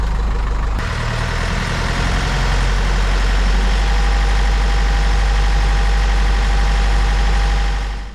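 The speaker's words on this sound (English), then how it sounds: "push it in gear. And then you'll go in reverse, 1200 RPM." A sailboat's inboard engine runs in reverse gear at 1200 RPM, a loud, steady low rumble and drone that holds evenly throughout with no talk over it.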